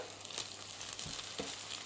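Burger patties, the last two without cheddar, fry in a pan for a homemade Big Mac, giving a steady close sizzle and crackle with a few brief louder pops and no talking.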